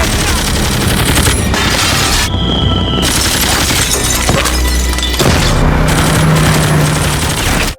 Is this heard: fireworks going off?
yes